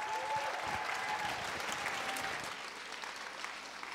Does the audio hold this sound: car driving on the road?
no